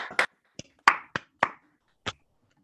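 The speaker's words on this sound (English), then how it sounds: "Give it a big round of applause" Sparse, isolated claps from a few participants at an online state assembly legislative forum, about six separate sharp hand claps spaced irregularly with silence between them.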